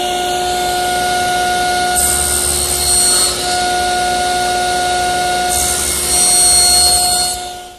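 A table saw cuts a wooden rail guided by a miter gauge set at 15 degrees, a loud steady whine with tonal ring and two stretches where the blade bites into the wood, no speech.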